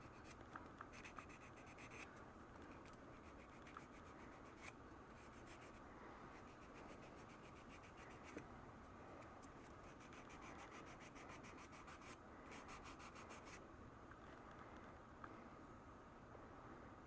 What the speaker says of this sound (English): Let me sand this.